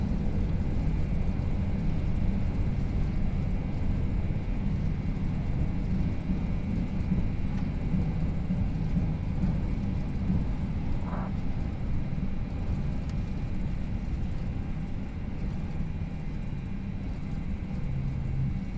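An Airbus A320 in the FSLabs flight simulator brakes during its night landing rollout at Pago Pago, a steady low rumbling roar that holds evenly throughout with no voices.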